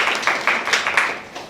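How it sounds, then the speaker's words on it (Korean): Brief burst of audience clapping at a Hanyang University talk concert, a quick run of sharp, evenly spaced claps from a small crowd that fades within a second and a half. "박수."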